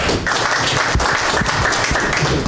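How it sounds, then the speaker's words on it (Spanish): Loud, dense applause fills the hall at a Juntos por el Perú political meeting, with many hands clapping continuously and occasional low thumps mixed in. "Un aplauso."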